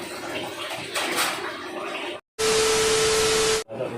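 Water running and splashing during a pedicure washing, rising to a loud, steady close rush for over a second after a brief quiet break, with softer watery sound before it.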